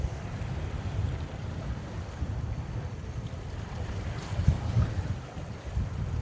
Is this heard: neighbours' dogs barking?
no